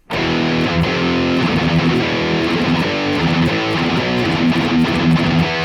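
Sludgy, heavily distorted electric guitar riff in a doom style played through the Neural DSP Mark IIC+ Suite amp model, loud and sustained with slow churning chords and no voices.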